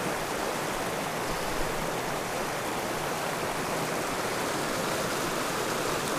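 The White Line river flows across wet, peaty fell ground at Bewcastle Fells, a steady, even rush of moving water that fills the whole stretch with no pauses or voices.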